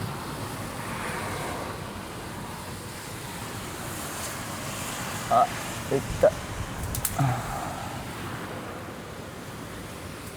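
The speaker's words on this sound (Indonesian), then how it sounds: "Hujannya juga campur angin." Steady roar of wind and driving rain in a Japanese storm fills the whole stretch, with a few brief knocks and a voice speaking faintly underneath.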